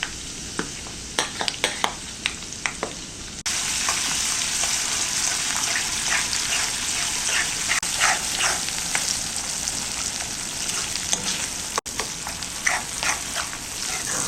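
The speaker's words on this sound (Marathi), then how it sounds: "इथे एक दोन मिनटं हे जे वाटण आहे ते मी तेलावर परतून घेतलं" A ground green chilli masala paste frying in hot oil for stuffed eggplant, a steady close sizzle broken by sharp scraping and clinking stirring strokes, with no speech.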